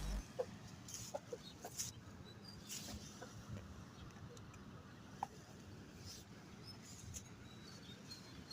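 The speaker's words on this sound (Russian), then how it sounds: "петух какой" Chickens cluck and a rooster calls at a small backyard chicken farm in Germany, quiet scattered bursts over low background rumble.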